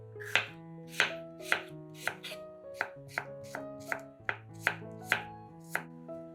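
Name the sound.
knife slicing sweet pepper into half rings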